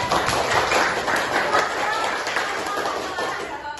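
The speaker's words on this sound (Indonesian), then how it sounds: "beri tepuk tangan buat kelompok 3" A classroom of students clapping for a presenting group, dense continuous clapping with light chatter and movement in the room.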